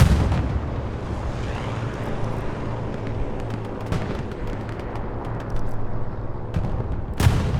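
Anti-tank gun firing in a WWII strategy game match on the Utah map, sharp booming reports over a dense rumble of distant battle, with several crisp impacts and a loud final blast.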